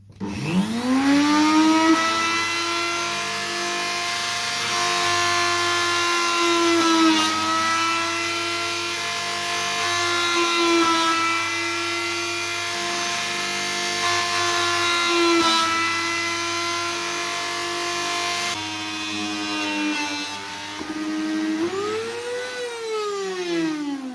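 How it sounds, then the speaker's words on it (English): A power drill whines continuously at close range, its pitch dipping and rising as it bites into material drilling holes for vintage-style wheel spats, with no talking. "Just drilling some holes"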